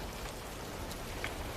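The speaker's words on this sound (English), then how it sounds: "Love the sound of the rain." Rain falls in a steady, close hiss with scattered drops tapping on surfaces, continuous and unbroken.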